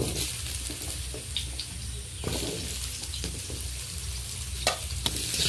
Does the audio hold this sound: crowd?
no